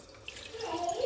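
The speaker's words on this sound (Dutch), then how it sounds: "Gaan we eerst een beetje water erin doen." Water being poured into a pan at a kitchen sink, a short trickling splash that rises in pitch and grows louder as the pan fills.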